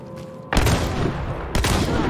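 Two heavy shotgun blasts in Hunt: Showdown boom about a second apart, each a sharp loud crack trailing into a reverberant tail, with a quiet lead-in before the first.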